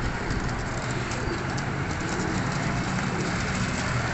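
Golden pigeons, a migratory kind kept for sale in Faisalabad, coo softly amid a dense, steady hiss of background noise throughout.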